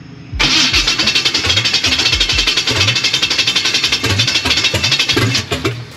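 Blueprint 540 big block engine in a C10 truck cranking over, a loud close rhythmic chugging of the starter turning the engine steadily for several seconds without catching.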